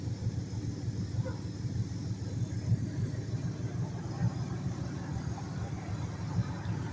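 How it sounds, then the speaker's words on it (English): A 1998 Ford F-150 truck engine idling after sitting unused for several years, a steady low rumbling hum that holds evenly throughout. "But on 1998 Ford, started right up after been sitting there for several years"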